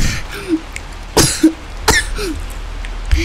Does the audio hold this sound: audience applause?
no